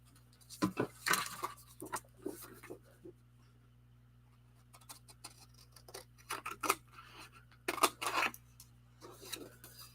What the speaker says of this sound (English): Yes, I got gummy on my scissors.